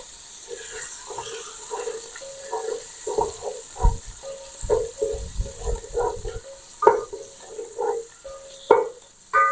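Small chicken cubes fry in ghee in a pan with a soft, steady sizzle, while a spoon repeatedly scrapes and clinks against the metal in an irregular rhythm up close.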